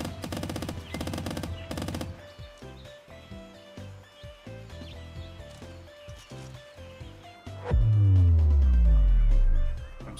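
Bursts of rapid gunfire from a squirrel's gun in the video game Squirrel with a Gun, loud repeated volleys early on, then sparse shots under game sounds, ending in a deep booming rumble.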